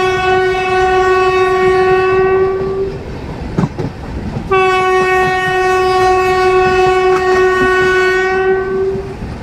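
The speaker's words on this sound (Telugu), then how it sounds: "మన ట్రైన్ వచ్చేసి బ్యూటిఫుల్ కర్వ్ అయితే తిరుగుతుందండి." 17221 Kakinada–Mumbai LTT Express rounding a curve: two loud, long horn blasts separated by a short gap, over a rolling rumble and clickety-clack of the coaches. No voices.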